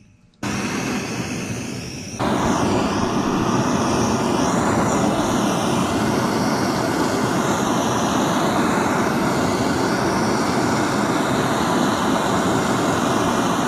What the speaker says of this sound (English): So I just have a propane torch.